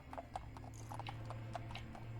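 Horses in the video game Fallout London, with a run of clip-clopping hooves over a steady low hum, moderately close and continuous, no talking.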